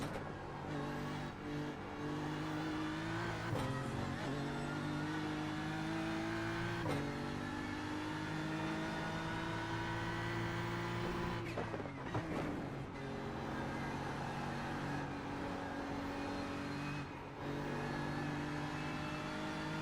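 A race car engine in a racing video game revs high and steady, with repeated sharp shifts and dips in pitch as it accelerates and brakes through corners, loud and continuous throughout.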